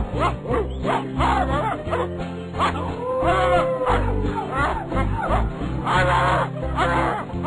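A dog barks repeatedly in a rhythmic series of short, strong woofs over a backing of music and singing.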